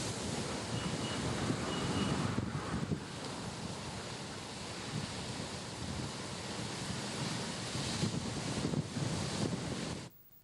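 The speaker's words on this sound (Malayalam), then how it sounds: "ശക്തമായ തിരയടിച്ച് വെള്ളം കരിങ്കൽ ഭിത്തി കവിഞ്ഞൊഴുകി" Rough sea surf surges over a stone seawall during heavy coastal swell, a continuous loud roar of breaking waves mixed with wind buffeting the microphone, then cutting off abruptly at the end.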